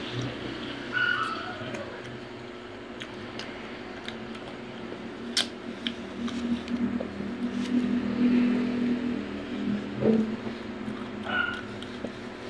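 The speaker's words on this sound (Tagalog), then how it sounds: "Ang ingay ng aso ng kapitbahay namin" A neighbor's dog barks and yips intermittently at a distance, faint sharp calls rising over steady outdoor background noise and passing traffic, with no one talking.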